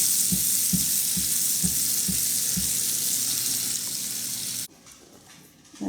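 Sugar snap peas and minced garlic sizzling steadily in a hot pan, loud and close, with a few soft knocks from stirring before the hiss drops away near the end.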